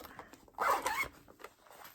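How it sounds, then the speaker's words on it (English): A clothing zipper is zipped once, close and fairly loud, a short rasping pull lasting about half a second in an otherwise quiet room. "Sorry about the zipping here."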